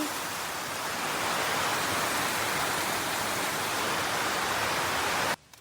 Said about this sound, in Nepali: यहाँ त दमदार पानी सुरु भइहाल्यो